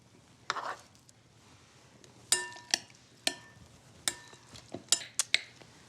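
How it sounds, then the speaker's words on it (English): Spoon clinking against a bowl or pot while lime soup is stirred together with picked lobster meat, a series of crisp, close metallic taps spaced irregularly over quiet background. "I'm gonna mix this up with the lobster I took apart earlier"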